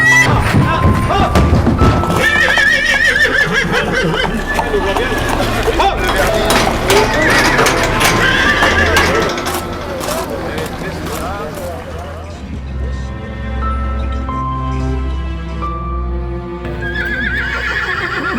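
At a horse fair in Maurs, France, horses whinny and neigh repeatedly amid thumping hooves and crowd bustle, with a voice talking over much of it as the commotion continues.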